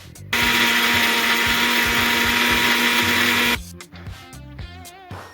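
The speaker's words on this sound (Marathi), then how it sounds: "तर हे सर्व एकत्र करून मिक्सर लावून घेऊयात" A kitchen mixer grinder whirs loudly and steadily for about three seconds as it blends onion, tomato, garlic and cumin, then cuts off abruptly, leaving scattered clatter and faint tonal noises.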